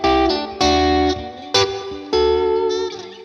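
Electric guitar played through a Bad Cat Black Cat combo amp with in-between pickup positions, loud sustained chords and notes ringing out in four strong strums with slight reverb decay.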